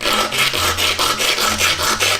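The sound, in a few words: rubbing with coarse sandpaper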